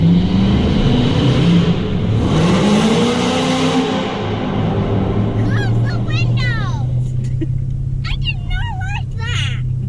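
Cars revving inside a tunnel at Texas Motor Speedway, a loud sustained engine roar rising in pitch and echoing, with people's voices and squeals heard over the rumble toward the end.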